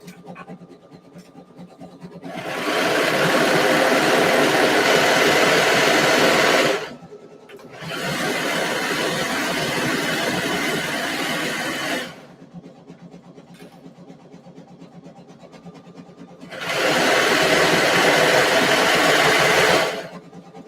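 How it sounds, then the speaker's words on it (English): A serger runs along fabric edges in three separate bursts of a few seconds each, a fast even mechanical whir with quiet gaps between runs. "So these are the edges that I'm going to be serging is down those edges."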